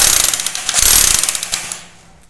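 A power drill grinds into wood with a harsh, rattling whine for about two seconds, then winds down and fades out.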